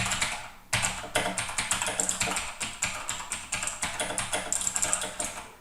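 Fast, close clicking of keys on a computer keyboard, with a dense run of rapid taps after a brief opening pause, continuing steadily with no voices.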